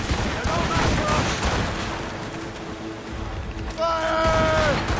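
Volley of musket fire in the video game Assassin's Creed Rogue, a dense crackling burst of shots over a noisy battle backdrop, ending with a ringing tone and shouts.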